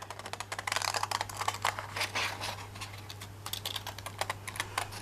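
Pinking scissors with notched blades cut around a piece of card paper for a handmade greeting card, giving a close, quick run of crisp snipping clicks over a faint steady hum.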